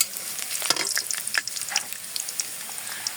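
Whole cardamom pods, cinnamon sticks, a large bay leaf and cloves crackle in hot oil for a beef curry, a bright busy sizzle with sharp pops and stirring scrapes, close and steady.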